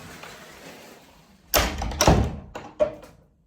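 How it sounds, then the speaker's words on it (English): A door in a remote Scottish bothy is pushed shut, giving a loud close thump followed by further knocks and a final bump as it settles, heard up close in an otherwise quiet room. "So I'm gonna close this door."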